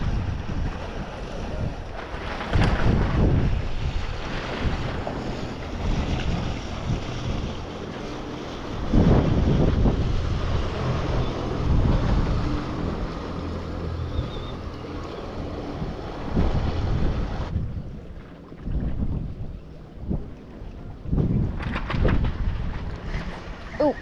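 Wind gusting across a waterside fishing dock, a loud broadband rumble that surges and buffets the microphone steadily, with a quieter lull near the end.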